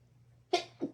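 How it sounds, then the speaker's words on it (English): A person sneezes once, close and fairly loud, a sharp burst followed by a softer trailing breath, after a quiet pause. "oh, I'm going to sneeze."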